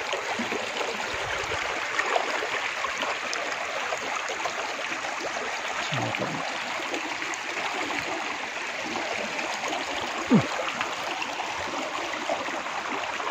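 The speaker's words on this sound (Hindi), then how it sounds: "कल कल कल कल कल पानी की आवाज़ सुन सकते हैं आप" Water streams and tumbles over a small waterfall at the Kalyan Kedareshwar Mahadev temple in Sailana, Ratlam, making a steady, close, broadband rush with faint gurgles and no voices.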